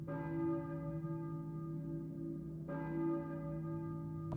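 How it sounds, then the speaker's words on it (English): A church bell tolls twice in the Silent Hill 2 video game, each deep, rich strike ringing out and decaying slowly, heard alone and fairly faint. "I think I hear a church bell, maybe. Who is ringing the bell?"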